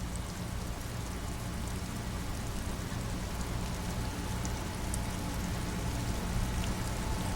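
Steady rain pours over the streets of Revachol in Disco Elysium, making a dense, continuous hiss with occasional soft drip ticks, even in loudness throughout.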